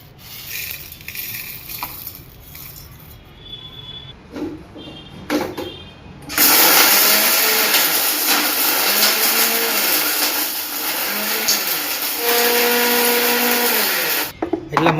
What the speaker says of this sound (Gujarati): આ મસાલાને પીસી નાખીએ।